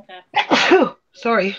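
A single sharp sneeze bursts out mid-clip, framed by brief speech before and after it, close and fairly loud.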